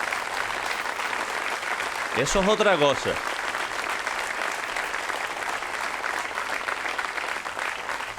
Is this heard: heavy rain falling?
no